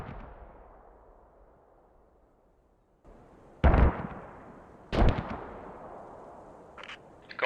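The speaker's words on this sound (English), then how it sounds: "we're taking enemy mortar fire at Lima 125" Enemy mortar fire in a military game lands as heavy, sudden blasts after a fading rumble and a quiet gap, two loud booms a little over a second apart, then smaller distant bursts.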